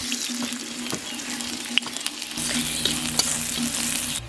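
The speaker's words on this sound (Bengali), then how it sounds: "এই যে দেখুন রসুনটা ভাজা হয়ে গেছে" Chopped garlic sizzles in hot vegetable oil in a wok. A bright, close crackle carries stirring taps and clicks and swells noticeably louder halfway through. No voices are heard.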